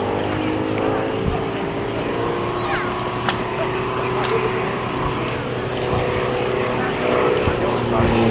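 Light aeroplane at the East Kirkby air show, its propeller engine droning steadily and fairly close with a continuous hum, while a person talks over the engine noise.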